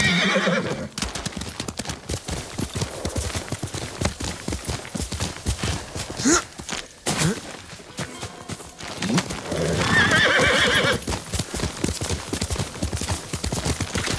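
A horse gallops in Ghost of Tsushima with steady, rapid hoofbeats and whinnies loudly a few times along the way, with no one talking.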